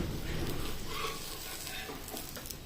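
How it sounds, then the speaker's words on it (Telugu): Pesarattu, a moong dal dosa, roasts on a hot pan, giving a faint, steady crackling sizzle with light spattering, no voices over it. "ఇప్పుడు 2 వైపులా మంచిగా కాల్చుకోండి"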